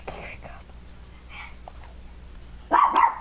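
A dog barks in the background of a room, a few faint yips under whispered talk, then a louder burst of barking near the end.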